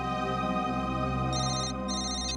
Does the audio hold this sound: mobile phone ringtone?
yes